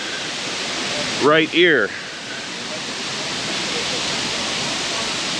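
Brandywine Falls in Cuyahoga Valley National Park, Ohio, pours as a constant, even roar of falling water that fills the whole stretch. A person speaks briefly over it early on.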